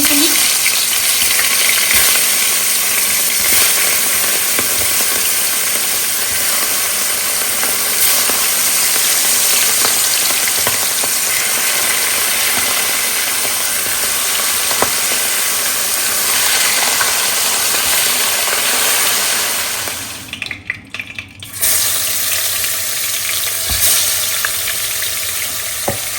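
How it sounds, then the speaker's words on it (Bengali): Hilsa fish frying in a pan, a steady loud sizzle and crackle running almost throughout, briefly dropping away near the end before resuming. "ইলিশ মাছগুলো ভাজি করে ফেলি।"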